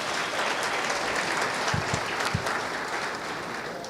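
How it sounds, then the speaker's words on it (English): A packed room applauds artisans at a graduation ceremony for training centres, with continuous, dense clapping from a large audience, steady and full throughout, plus a few low thumps. "Let's give them a big round of applause"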